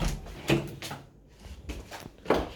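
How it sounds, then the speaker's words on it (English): A door in a house being inspected at move-in slides open and shut, with a few close scraping thuds and rolling sounds and a short quiet gap between them. "So the door opens and closes fine with no concerns."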